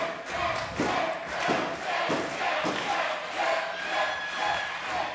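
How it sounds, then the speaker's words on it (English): A wrestling event crowd roars and cheers in a large arena, a dense continuous swell of voices with rhythmic thumps underneath, steady and loud throughout. "crowd really showing their appreciation."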